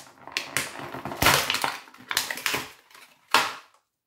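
Hasbro WWF wrestling action figure being pried out of its plastic blister card, a run of crinkling, crackling plastic snaps and crunches, close up, ending in one sharp crack.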